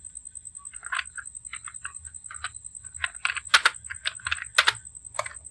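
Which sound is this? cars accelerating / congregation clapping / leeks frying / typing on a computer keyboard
typing on a computer keyboard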